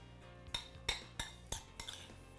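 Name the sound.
mixing pico de gallo in bowl with utensil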